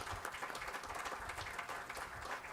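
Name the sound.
audience applause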